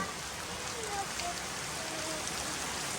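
Steady rain falls outdoors, a soft, even hiss of drops on surfaces that continues unbroken and fairly faint throughout.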